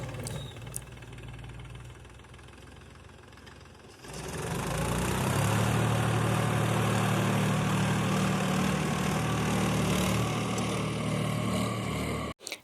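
A tractor works a rice paddy field in Dehradun while sowing paddy, its engine running steadily close by: a quieter idle at first, then a louder, sustained throaty drone with knocking from about four seconds onward, no voices heard.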